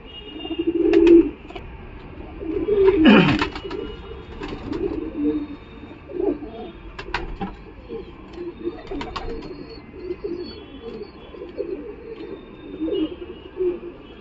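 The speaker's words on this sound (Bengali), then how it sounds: "খতেন ম্যাড্রাস পায়রা" An older khaten Madras pigeon coos steadily in low, throaty rolls, close by at a Galiff Street pigeon market, with a brief louder burst early on and other birds faintly in the background.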